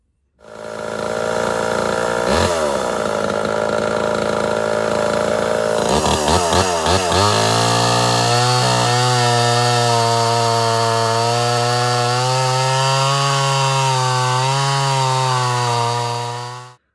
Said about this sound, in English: Listen to the way the saw is idling right now